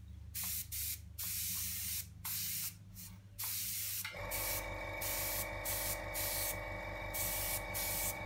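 An airbrush sprays Daler-Rowney ink in short repeated hissing bursts, then a steadier spray over a constant compressor hum, close and fairly loud with no talking.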